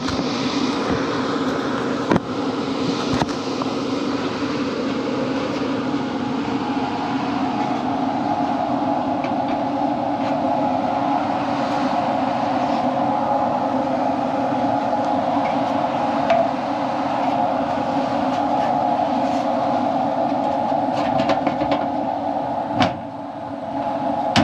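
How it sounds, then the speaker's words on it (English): An air conditioner's indoor blower fan runs steadily in a home HVAC system being repaired, giving a constant mid-level whoosh with a broad hum that holds for the whole stretch, plus a few faint clicks. "We got blower."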